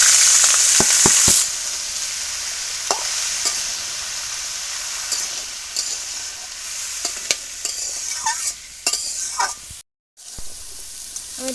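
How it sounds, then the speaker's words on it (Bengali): Vegetables sizzle in hot oil in a pan with chilies while a utensil stirs them. Steady frying hiss throughout, with scraping and clinks, a louder spray-like burst at the start and a brief dropout near the end. "এই যে আমার ঝালগুলো সব ভাজা ভাজা হয়ে গেছে, এবারে আমি সবজিগুলো দিয়ে দেবো।"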